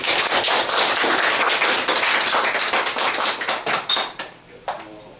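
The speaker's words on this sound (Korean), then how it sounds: "큰 박수 부탁드리겠습니다." Audience applause at a career seminar: a burst of many hands clapping, dense at first, then thinning into scattered individual claps that fade out near the end.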